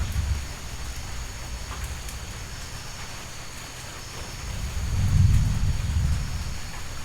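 Thunder rumbles low and heavy in a rainforest storm, swelling into a louder rolling crash near the end over a constant wash of falling rain, with no voices.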